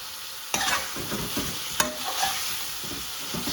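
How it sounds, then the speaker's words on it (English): Spices sizzle and fry in a pan for a chicken tadka curry, with a steady crackle and a few sharp clinks of a utensil stirring nearby. "This is the important part where you are cooking the spice really well."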